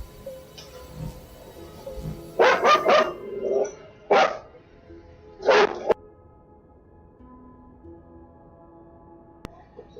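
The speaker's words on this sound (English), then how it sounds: "sorry about the dogs" Dogs bark indoors in a quick burst of three or four sharp barks, then two more single barks a moment later, close and loud over a low background hum.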